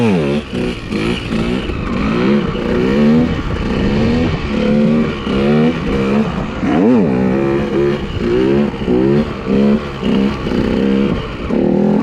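A KTM 125 EXC dirt bike revs hard and repeatedly during wheelie practice, its two-stroke engine rising and falling in close, loud bursts as the throttle is blipped and released.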